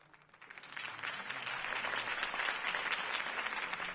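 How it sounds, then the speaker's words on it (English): A crowd breaks into applause in a Batman video game that swells quickly and holds as a dense, steady wash of clapping. "could have heard that applause"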